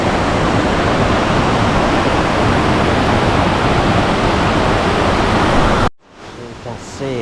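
Loud, steady roar of a deep jungle waterfall in Bali pouring over mossy, slippery rocks, a dense rushing wash that cuts off abruptly near the end, leaving a quiet space with a faint voice.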